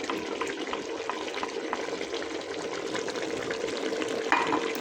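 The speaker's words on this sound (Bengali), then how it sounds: "এগুলো হালকা নেড়ে নেব" Ginger, garlic and dried chilli paste is stirred in a pan for beef curry, with a steady, close, moist sizzle and hiss and a soft scrape of the spoon toward the end.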